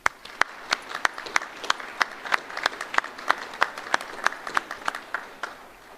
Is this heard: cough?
no